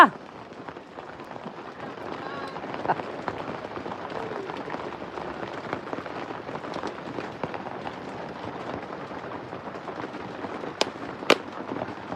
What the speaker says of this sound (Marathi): इकडं तर चालू आहे पाऊस